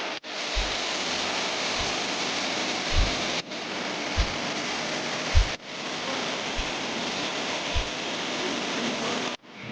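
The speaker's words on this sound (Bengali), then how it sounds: "বৃষ্টির অপেক্ষা তো শেষ হয়ে গেছে" Steady rain falls, a soft, even hiss of medium loudness that cuts in and out a few times, with occasional low thumps of drops; no voices.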